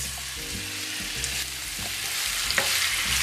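Apples frying in melted butter in a pan, a soft continuous sizzle with a few light stirring scrapes, no voices.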